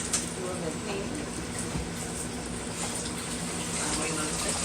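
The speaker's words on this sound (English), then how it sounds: "And wash a few dishes." Water runs steadily from a kitchen tap while dishes are washed, a continuous close rushing flow with a clink or two and some talking mixed in.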